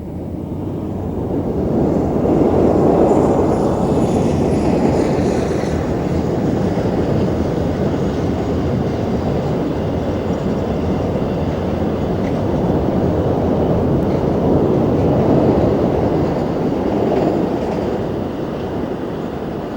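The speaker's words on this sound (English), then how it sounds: "Heading cross country is the 1034 Leeds to Felixstowe Freightliner." A Freightliner freight train on the Leeds to Felixstowe run rumbles past steadily for the whole stretch, a loud continuous roll of wagons with faint wheel noise and no voices.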